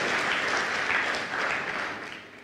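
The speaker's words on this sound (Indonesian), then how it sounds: "berikan tepuk tangan yang meriah buat Tuhan" Church congregation applauding God during a sermon: a dense, steady wash of many hands clapping that eases off slightly at the end.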